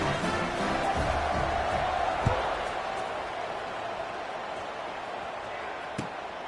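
Broad, steady roar of a stadium crowd in the College Football 25 video game, with occasional thumps within the dense cheering.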